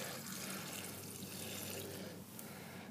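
Water and fine silt being poured off settled washed soil, leaving the sand behind; a steady, close splashing pour that runs without a break and dips only slightly near the end.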